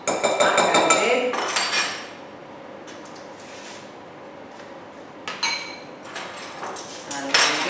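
A spoon stirs a filling mixture for Mexican pockets in a pan, giving loud clattering metal clinks and scrapes at the start, a quieter stretch, then more bursts of clinking near the end.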